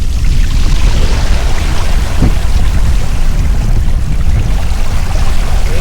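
A VinFast Evo electric scooter rides through choppy flood water reaching its footboard, a loud, close, continuous sloshing and splashing rush with no voices.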